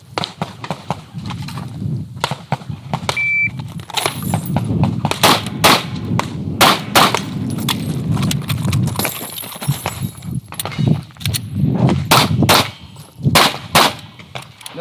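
Gunshots from a two-target, one-reload shooting drill ring out as sharp, loud reports in irregular bursts, with metallic clangs from the targets and a pause for the reload in the middle.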